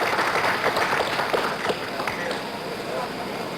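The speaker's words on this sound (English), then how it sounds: "The President signaling for applause from the crowd." A large outdoor crowd applauds and cheers during the 1969 Apollo 11 recovery ceremony as the President gestures toward the astronauts; steady, dense clapping and crowd noise with a few sharper claps standing out.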